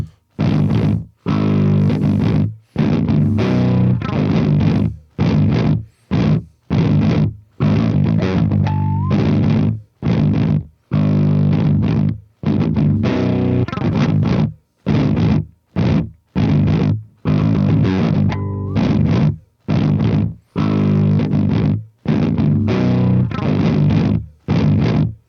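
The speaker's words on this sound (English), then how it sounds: "I think what we've kind of shown here is that power tube distortion is a thing" Heavily distorted electric guitar through a loud amp pushed into power tube distortion, played in chopped chord bursts separated by brief silences, a gritty, saturated tone throughout.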